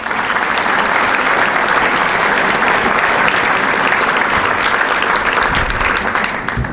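An audience at a breakfast event applauds loudly and steadily throughout, a dense, even wash of clapping.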